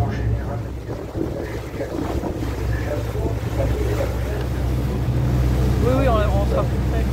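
Wind gusting outdoors on a boat, buffeting the microphone with a constant low rumble, while voices talk intermittently over it.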